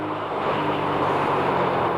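A 2018 Keeway K-Light 202 motorcycle on the move gives a steady, loud roar of engine and wind noise that holds even for two seconds, with no voices.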